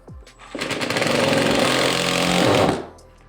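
A power drill drives a bolt into drywall while a TV wall mount is installed, a loud steady whirring burst of about two seconds with no talk.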